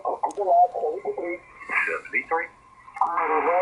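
Voice heard through an SGC SG-2000 HF SSB transceiver with 26 dB DSP noise suppression, sounding clipped and band-limited, broken into short bursts with quiet gaps and almost no background hiss.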